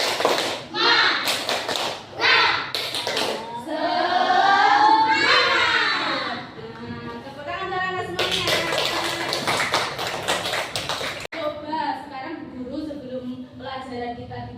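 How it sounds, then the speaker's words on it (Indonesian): Schoolchildren in a classroom chant the tepuk semangat cheer with a teacher, their voices mixed with rhythmic hand claps and taps in quick, patterned bursts. The chanting and clapping are loud and close. "Sedia tepuk? Tepuk semangat."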